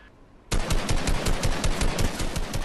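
Rapid automatic gunfire in a battle royale video game, bursting in loud and close after a brief quiet moment and rattling on continuously to the end.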